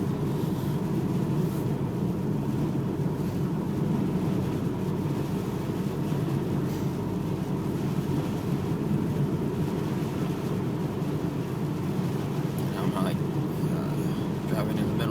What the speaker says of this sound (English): Wind's probably blowing like 40.